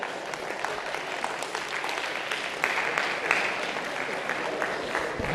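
An audience applauds at a de-addiction talk, with steady, dense clapping that swells slightly partway through and carries on throughout.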